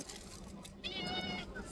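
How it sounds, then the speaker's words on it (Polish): A begging cat at a restaurant in Taghazout, Morocco, gives a drawn-out meow that rises in the middle of the clip over a busy background of chatter and room noise. "A tak wygląda kot żebrający."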